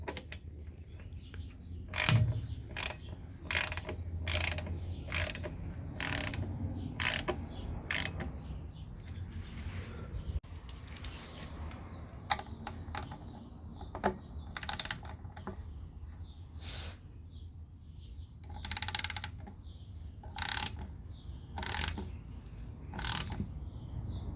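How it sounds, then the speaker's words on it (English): A hand ratchet snugs the transmission pan bolts on a Mercedes W210 E55 AMG, with bursts of rapid clicking separated by short pauses, close and clear. "Just get them nice and snug first, don't actually torque them, and then do all the other ones and then start torquing the ones in the middle first."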